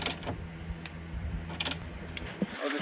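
Ratchet wrench tightening Soul Function M Brace bolts under an Infiniti Q50, with short bursts of clicking against a low, steady background hum.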